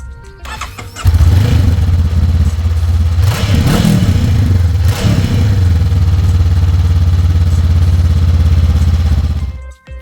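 A 2022 Honda CB500F with its stock exhaust starts up and settles into a loud, steady idle with a couple of brief blips of revving, then cuts off at the end.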